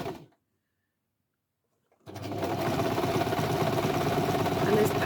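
Sewing machine stitching small crumb fabric scraps, starting after a brief silence and running as a steady, close mechanical whir with rapid needle rhythm for the rest of the clip.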